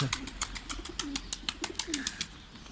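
Pigeons coo in a quick, repeating rhythm, close by, with soft rustling between the calls.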